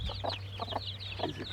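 Hens brooding on eggs give soft, repeated clucks in short bursts against a low steady hum, close by.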